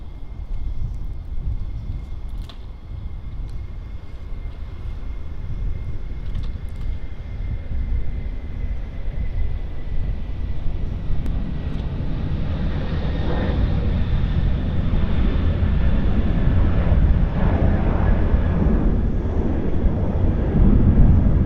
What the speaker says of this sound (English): I think we'll grab this Qantas A380 that's about to depart